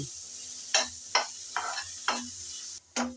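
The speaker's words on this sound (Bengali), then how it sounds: "সামান্য একটু নেড়ে চেড়ে ভেজে নিলাম" Chopped green chilies and minced shrimp fry in a pan under a low steady sizzle, while a spoon scrapes and stirs in five distinct, evenly spaced strokes close by.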